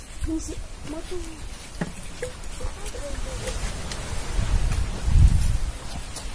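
Gusty wind buffets the microphone with low rumbling, swelling stronger near the end, while leaves rustle and a few faint tones sound in the background.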